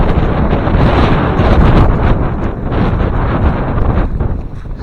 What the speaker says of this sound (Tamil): காத்து வேற பயங்கரமா அடிக்குதுங்க